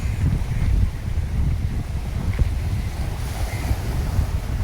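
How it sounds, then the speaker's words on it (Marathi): Cool wind blows steadily at the seaside, a continuous rumbling gust noise buffeting the microphone with surf washing underneath, loud and unbroken throughout. "गार वारा येतोय मस्त"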